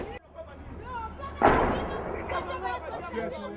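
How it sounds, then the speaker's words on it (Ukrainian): A single heavy artillery shell blast bursts out about one and a half seconds in and rumbles away, heard in a zone with renewed mortar and shell fire and gunfire, after brief talk at the start and with chatter continuing. "А что это было? Прям снаряд, походу."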